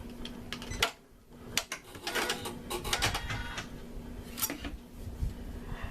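An MB4 embroidery machine stitching a design in a hoop, its rapid needle chatter running steadily and close up with clicking and rattling throughout.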